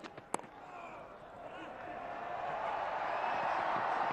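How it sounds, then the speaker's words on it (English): A cricket crowd at a Pakistan versus New Zealand Test match cheering a 100 partnership on the final day, a broad roar swelling and holding steady in the distance, with a brief sharp crack near the start. "And the loud cheer is for the 100 partnership."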